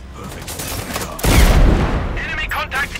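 Sniper rifle gunfire in the video game Sniper Ghost Warrior Contracts 2, a loud burst of shots with a heavy boom and rumbling tail, followed by fainter crackling game sounds.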